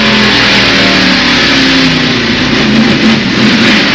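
A NASCAR Winston Cup race car engine at North Wilkesboro Speedway in 1991, heard from the roof camera: loud, steady roaring drone at high revs with wind rush, continuous throughout.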